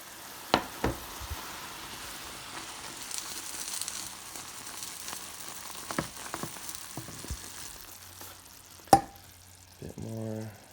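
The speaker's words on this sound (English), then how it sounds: "It's going to sort of bubble up. And you want to stir it." Caramel bubbles softly in a pan as a spoon stirs it, giving a low sizzle with occasional sharp clicks and scrapes. One louder knock comes near the end, followed by a brief voice.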